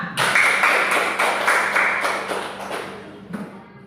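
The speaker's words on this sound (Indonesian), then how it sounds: "Tepuk tangan untuk kita semua." A group of people in a classroom lesson clapping their hands together in unison: dense, close, fairly loud applause with a few stronger beats, tapering off over about four seconds.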